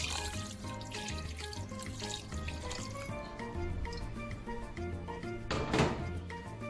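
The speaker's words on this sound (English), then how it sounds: "Basically cover your chicken with water" Running water pours steadily over raw chicken in a bowl, a continuous splashing wash that swells briefly near the end.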